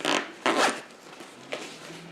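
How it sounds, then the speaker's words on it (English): Zippers on winter travel gear are pulled in three quick rasping strokes, close and loud, two long zips followed by a shorter one, with no voices. "I like to have the zippers come to the center"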